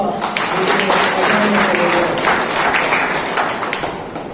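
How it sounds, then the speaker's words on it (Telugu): A large audience claps loudly and continuously at a public meeting, a dense, steady patter that fades slightly toward the end. "మీకు ఒక్కసారి పెద్ద ఎత్తున చప్పట్లతో"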